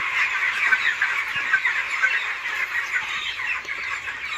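A flock of broiler chicks on a farm in Nagaon, Assam, peeps continuously as they are driven along, a dense high-pitched chorus that stays steady and close with no talk.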